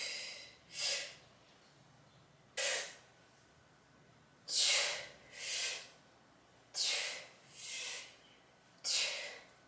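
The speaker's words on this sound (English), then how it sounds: "I do that breathing even though I don't have a bunch of weight" Sharp bracing breaths during bodyweight squats come close to the mic, seven quick forceful inhales and exhales at irregular intervals with quiet pauses between them.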